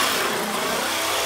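Traxxas XRT RC truck's electric motor revving hard for a backflip attempt, a loud continuous whine with a roar of tires churning, close and unbroken for about a second.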